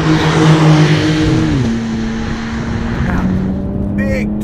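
A 2021 Porsche 911 Turbo S engine pulls hard under acceleration on a wet road, its steady drone rising then settling into a sustained loud roar, with a voice talking over it.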